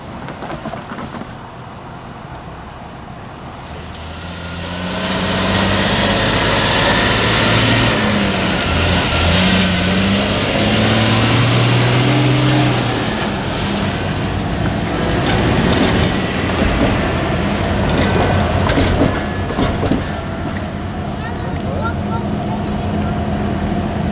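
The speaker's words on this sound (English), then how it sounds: "The locomotive is reversing onto its consist before pulling forward and reversing into the depot at Williams." Grand Canyon Railway steam locomotive number 29 reversing onto its train at the Williams depot, a heavy rumble and hiss swelling up after a few seconds and holding loud and near, with speech heard over it.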